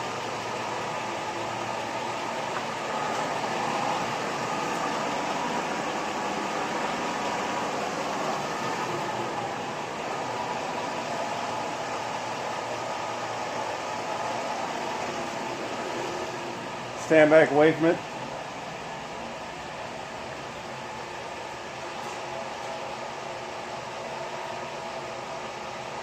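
An engine fitted with Evolution lifters idles after a 15-hour valve train run-in, its wheel tub and wheel installed. It gives a steady mechanical hum with a brief clattering burst partway through, and a person speaks briefly.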